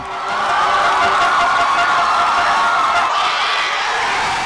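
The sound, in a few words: baseball crowd at Busan's Sajik stadium singing the Busan song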